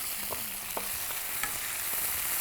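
Ten cloves of garlic and half a tomato sauté in a pan, producing a soft, steady sizzle with a few light spatula taps and stirs.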